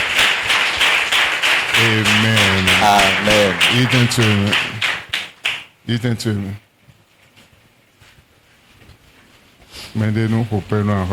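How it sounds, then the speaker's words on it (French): Church congregation at an Easter Sunday service closing a 21-day fast, clapping in a dense, steady burst that fades out, then a loud voice calls out over the room. "Applaudis pour le roi des rois."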